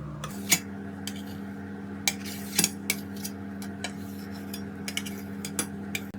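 A utensil stirs melted chocolate in a bowl while it is tempered, giving light irregular clinks and taps against the bowl over a steady kitchen hum, with no talking.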